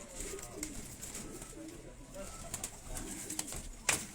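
Gentle coos from a Chapra pigeon and other show pigeons keep rolling close by in short repeated phrases, quiet under a man's speech, with a sudden sharp clatter near the end.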